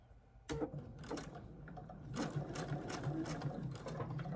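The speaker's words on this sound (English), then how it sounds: "I've got my leader on there, and let's just get sewing." A sewing machine stitching fabric placemats, running in short bursts with rapid mechanical clatter and small clicks between runs, close and moderately quiet, no talking.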